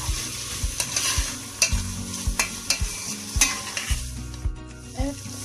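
Meat stirred in a pot for Turkish chickpea stew, with a steady close sizzle and repeated scraping spoon strokes at an uneven rhythm, no talking.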